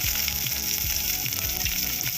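Finely chopped onion frying in a pan, with a steady close sizzle and crackle that carries on without pause while small utensil clinks and stirring sounds break through.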